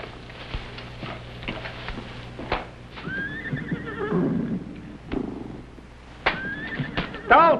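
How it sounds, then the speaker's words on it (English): Several horses neigh and whinny in a rustic setting, with shrill rising-and-falling calls around the middle and end, mixed with faint hoof clops and background voices. "What do you suppose is bothering them horses?"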